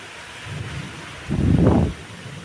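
Heavy rain hisses steadily throughout, with a low rolling rumble of thunder swelling up partway through and fading again.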